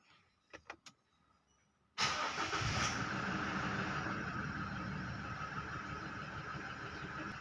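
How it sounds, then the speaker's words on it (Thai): A few faint clicks, then a car engine cranks and catches at about two seconds, settling into a loud, steady idle that runs to the end. "เดี๋ยวผมก็จะทำการสตาร์ทเครื่องนะครับ"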